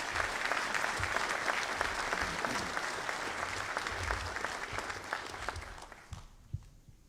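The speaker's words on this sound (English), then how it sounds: "please a round of applause for the singers" Audience applause at a U.S. 7th Fleet change of command ceremony for the singers, dense sustained clapping from a crowd that tapers off near the end.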